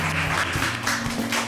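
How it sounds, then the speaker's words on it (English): A studio audience on a live cooking show gives a round of applause, a brief burst of clapping heard over a low steady hum, with a few sharper claps near the front. "Give her a round of applause."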